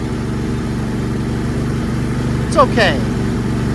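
Small two-stroke engine of a Ryobi weed trimmer with a dirty carburetor running steadily nearby, a constant buzzing drone while a voice speaks briefly over it.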